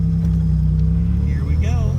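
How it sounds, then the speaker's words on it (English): A 1980 Buick Regal turbo sport coupe with a draw-through turbo drones loudly and close, a faint high turbo whine running over the engine rumble, and a voice speaks near the end. "Hear the turbo spool."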